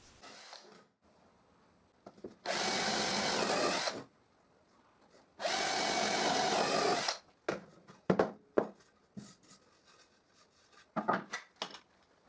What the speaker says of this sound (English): then I keep drilling faster